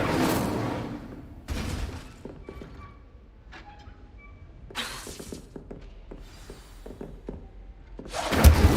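Incendio fire spell cast in the video game Hogwarts Legacy, a few separate bursts of whooshing, crackling flame that flare up and fade, spread out among quieter stretches with small impacts.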